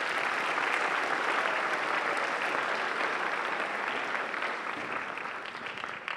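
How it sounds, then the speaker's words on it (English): Sustained audience applause at a high school band spring concert, a dense, steady wash of clapping from a large crowd that fills the hall and tapers slightly toward the end. "Let's give another round of applause."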